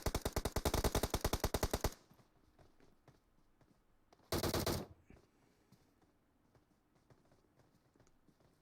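Rapid automatic gunfire from an online multiplayer shooter scrim, a dense two-second burst of evenly spaced shots, then a brief second burst after a pause, with quiet game ambience in between.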